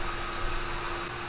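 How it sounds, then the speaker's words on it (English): Fans spinning inside a freshly powered-on Creality Ender 3 Pro 3D printer, a steady soft whirring hum with a faint constant tone, quiet and close with no talking. "you should hear all kinds of fans running"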